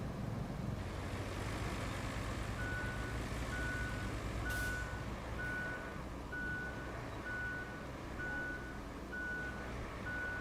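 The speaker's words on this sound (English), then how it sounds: "the backup beeper is going to beep the whole time" Truck backup beeper in the RoadCraft video game, a steady, evenly spaced electronic beep repeating through the whole stretch over a continuous low engine rumble.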